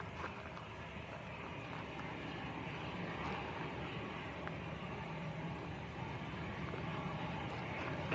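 A Discover Airlines Airbus airliner arriving at Lanzarote Arrecife Airport, a faint, distant steady jet roar with broad hiss that holds level throughout, no voices.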